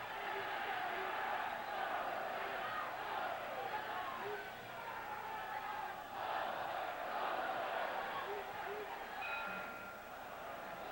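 A Muay Thai crowd roars and chants around the ring, a dense, continuous mass of voices swelling in waves as the fighters kick, heard at some distance.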